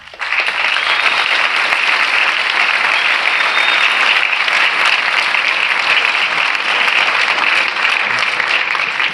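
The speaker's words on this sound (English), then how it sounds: "Round of applause for Roy." A large audience claps loudly and steadily for a presenter, a dense, continuous roar of applause with no voices on top, sustained for the whole stretch.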